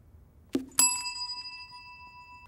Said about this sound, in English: As soon as I release the ball, Jamie is going to hit the bell.